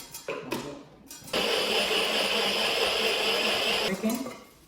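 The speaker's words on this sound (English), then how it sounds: "I'm going to blend my Scottish bonnet, some garlic, a bit of onions, and mixed pepper." A few knocks and clunks, then a blender whirs up and runs steadily for a few seconds, pureeing Scotch bonnet, garlic, onion and mixed peppers, loud and close before it spins down.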